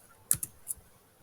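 A few crisp computer keyboard clicks, two quick taps followed by a single press of the enter key, close and fairly faint against a quiet room.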